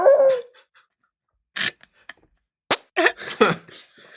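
A voice imitates an alien dog with a short whining yelp, then falls quiet before a few more breathy, barking bursts and huffs. The sounds are close and uneven, and spaced by silences.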